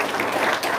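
A short burst of hand clapping and applause from a small audience, dense and continuous for under a second, at moderate loudness.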